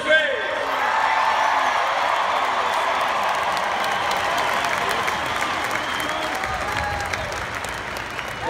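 A big concert crowd at a show in Las Vegas applauds a performer, with loud sustained clapping, cheers and whoops, and a voice talking over it near the end.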